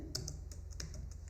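Rapid typing on a computer keyboard while a chart title is entered in an Excel formula bar, a steady run of light, close key clicks with no talk over them.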